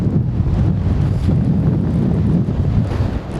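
Steady roaring wind of about 30 mph with gusts around 50 buffets a Hilleberg Soulo tent and the microphone, a dense low rumble with surging gusts and no voices.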